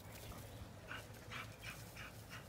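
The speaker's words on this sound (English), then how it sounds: "So we're sitting in the backyard watching the dogs." Dogs in a home backyard give a few faint, brief whines and yips over a steady outdoor background hum. They sound distant and quiet.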